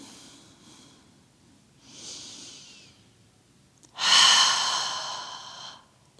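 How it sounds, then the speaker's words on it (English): Deep breathing during a yoga stretch: a long soft inhale, then a much louder, breathy exhale that slowly fades, both close and clear over a faint low hum. "Lots of deep breathing here."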